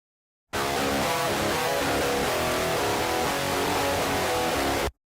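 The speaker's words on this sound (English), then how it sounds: "this is the sound of the guitars without an impulse response" Electric guitar through an amp simulator plugin with no impulse response loaded, a harsh, fizzy, buzzing wall of distorted tone that starts abruptly, holds steady and loud for about four seconds, then cuts off.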